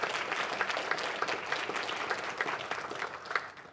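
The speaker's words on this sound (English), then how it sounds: "it's okay to clap for Bruce" An audience claps steadily for Bruce, a warm dense patter of many hands with a few sharper individual claps standing out near the front.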